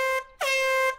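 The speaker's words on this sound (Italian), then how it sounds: "Che è successo al clacson? Mi sembra diverso." A new cartoon car horn honks twice, a loud, bright, brassy blare with rich overtones: a short first honk, a brief gap, then a longer sustained blast, with nothing else heard.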